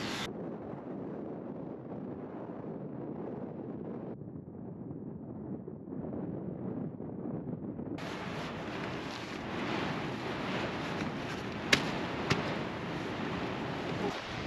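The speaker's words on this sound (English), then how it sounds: "It's still very, very windy." Strong, steady wind buffets an exposed wild camp in the Yorkshire Dales, a continuous broadband roar that grows louder and harsher halfway through, with a couple of brief knocks near the end and no talking.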